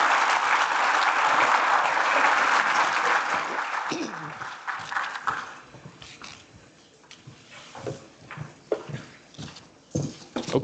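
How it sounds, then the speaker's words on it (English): A conference audience at an energy summit applauds a speaker, with dense clapping for about four seconds before it fades into scattered claps, shuffling and murmured voices. "if everybody could help me in a round of applause for Cindy"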